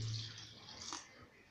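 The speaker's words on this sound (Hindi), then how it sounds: "इसके बाद थोड़ा सा हम इसमें पानी ऐड करेंगे" A little water is poured into cream (malai) in a mixer jar while making ghee: a brief, close splash and trickle that quickly fades.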